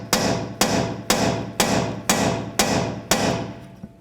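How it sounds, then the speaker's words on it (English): A hammer drives a punch against the steering knuckle of a 2004-10 BMW X3 to separate it from the strut, seven evenly spaced sharp metallic strikes, each ringing briefly, close and alone. "I'm just going to use a punch and a hammer"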